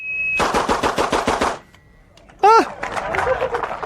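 Eight rapid gunshots fired at four targets ring out in a quick close string, followed by a brief sharp electronic beep and then a loud burst of outdoor noise.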